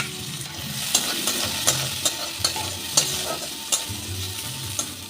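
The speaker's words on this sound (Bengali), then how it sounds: "এর মধ্যে আমি কটা কিশমিশ ধুয়ে রেখেছি সেটা, আর একটু কাজু ভেজে নেব।" Cashews and raisins fry in ghee with a soft continuous sizzle, punctuated by regular spoon-stirring clicks and small spatters in the pan, close up and with no voices.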